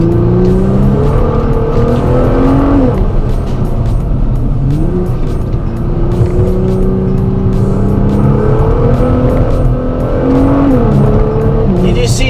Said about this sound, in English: hear how does the GTR build up the revs very slowly?